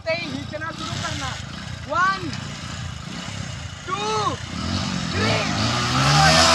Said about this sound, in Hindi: फिलहाल अभी बाइक चालू हो गई दोनों